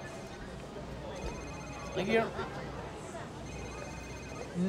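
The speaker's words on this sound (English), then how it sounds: "Is that your phone inside the display case?" A phone ringing from inside a display case, a thin electronic ringtone chiming faintly amid crowd chatter and nearby voices talking.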